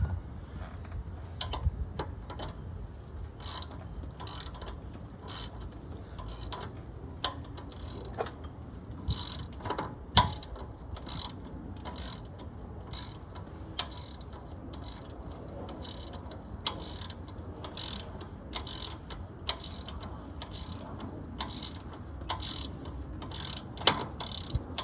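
A ratchet wrench loosening the shock absorber nut on a 2004 Dodge Ram: a long run of rapid, evenly spaced metallic clicks, close and steady, with occasional louder clanks and no talking.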